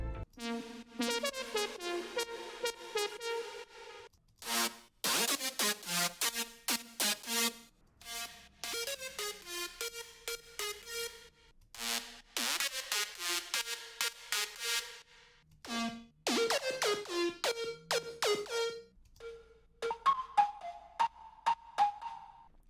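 Bright layered synth lead melodies play in a series of separate passages with short pauses between, each line sharp and tonal, no voices.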